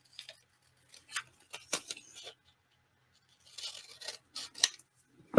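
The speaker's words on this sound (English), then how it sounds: "I love my little scissors when I fussy cut, but if you're doing anything straight, it seems like it just makes it take so much longer to cut out." Small paper scissors snipping for journal cutting, quiet close bursts of crisp snips in two clusters with pauses between, no talking.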